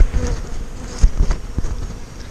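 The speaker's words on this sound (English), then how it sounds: "bees that are just being born into this colony right now" Honey bees from a colony inside a cut old oak tree hum in a low, close buzz, with a few louder surges and bumps over the steady drone.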